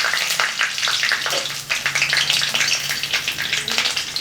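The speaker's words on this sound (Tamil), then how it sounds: "கருவேப்பிலை நல்லா பொரிஞ்சிடணும்." Mustard seeds and curry leaves frying in hot oil for a tomato chutney give a steady, close crackling sizzle scattered with sharp little pops, with no voices.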